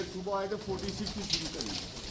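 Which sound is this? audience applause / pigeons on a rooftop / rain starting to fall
pigeons on a rooftop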